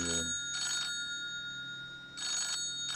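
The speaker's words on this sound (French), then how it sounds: "C'est quoi cette sonnerie?" A phone ringtone plays in a quiet room, two bright electronic chiming bursts separated by about a second and a half of near silence, fairly close and clear, with no talking.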